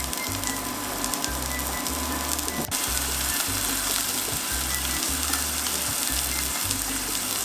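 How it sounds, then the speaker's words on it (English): A pork chop sizzles and fries in a hot pan as extra moisture evaporates, a dense steady crackling hiss that stays loud and close throughout, with a low intermittent hum underneath and no talk. "Pork chop is cooking beautifully. You're hearing any extra moisture being evaporated from the pan."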